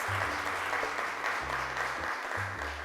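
A studio audience at a Turkish children's TV show claps steadily to welcome a child guest, with a low musical tone underneath and no talk.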